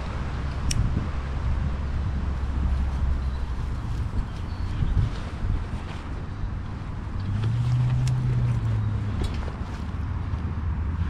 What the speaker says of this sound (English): bit of wind down here.